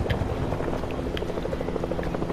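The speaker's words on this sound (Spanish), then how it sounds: "Escucho un helicóptero y me gustaría visualizarlo." Helicopter in the Fortnite video game drones steadily with a dense rotor thrum and whine, continuous and fairly loud throughout, with no talk over it.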